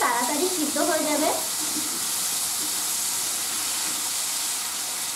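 Tomatoes for chutney cooking in a pan, a steady hiss of sizzling and steam throughout, with a brief burst of stirring clatter at the start, no talk.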